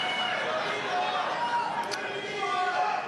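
A large crowd at the Fox News Patriot Awards in 2024 keeps up a dense, continuous roar of cheering and chatter throughout, steady and fairly close, with a few brief sharper accents.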